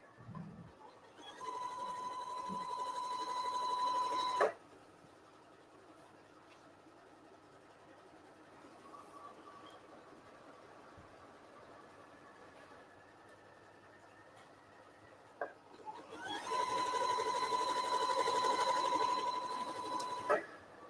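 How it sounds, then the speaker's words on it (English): A sewing machine stitches a long quilt strip in two separate runs of rapid, even whirring, one near the start and one near the end, with a quiet, low hum between them and no speech. "we're just sort of letting the machine take this big strip in"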